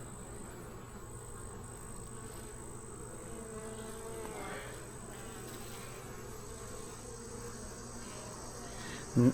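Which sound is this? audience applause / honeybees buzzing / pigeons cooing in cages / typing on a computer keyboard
honeybees buzzing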